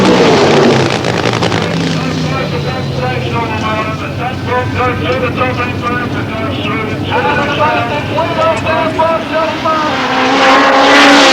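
Double-engine supercharged drag racing car screaming at high speed, a loud sustained engine roar with rising and wavering whine close by, filling the whole stretch, with a voice talking faintly beneath it.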